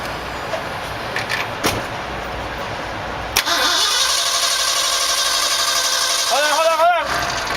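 A truck engine fitted with a damaged Holley 4-barrel carburetor cranks and fires up, settling into a loud, steady running roar, with a few revving swells near the end; people talk beforehand.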